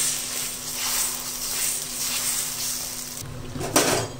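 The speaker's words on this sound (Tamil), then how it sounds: "கல் சூடானதும் எப்பயும் போல் தோசை ஊற்ற ஸ்டார்ட் பண்ணலாம்." Tomato dosa batter poured onto a hot oiled stone griddle, giving a steady soft sizzle and hiss throughout, with a brief louder scrape or clatter near the end.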